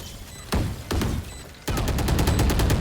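Gunfire in the first-person shooter Valorant, two single sharp shots followed by a rapid automatic burst of about a dozen cracks, loud and close.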